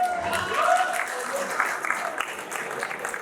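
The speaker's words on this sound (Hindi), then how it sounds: "एक बार फिर जोरदार तालियों से स्वागत करें।" Audience applause welcoming a speaker at a student meetup in Shamli, a dense steady clatter of many hands with crowd noise and some voices mixed in throughout.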